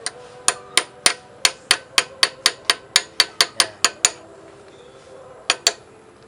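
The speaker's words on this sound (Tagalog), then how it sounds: "Pukpukin lang natin para masagad." Sharp metallic hammer strikes drive a motorcycle brake disc plate onto its nut on a Honda Beat FI V2, about fifteen close, evenly paced blows, a pause, then two more, with no talking.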